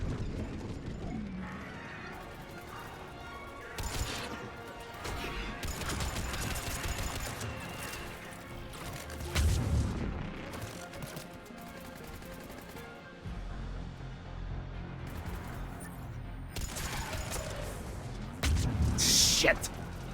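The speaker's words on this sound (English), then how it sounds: "Doesn't help that these fucks are shooting at me." Enemy gunfire aimed at the player in a video game, with bursts of shots and clanking mechanical noise in a busy mix, and a voice talking at times over it.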